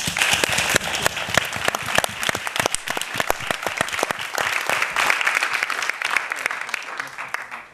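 Audience members clap together in sustained, crisp applause that stays fairly even and then tapers slightly toward the end.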